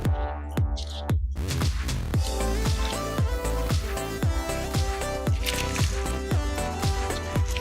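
Fresh lemon is squeezed by a gloved hand into a cooking mixture, producing a quick run of close, wet squishes and drips in a steady rhythm.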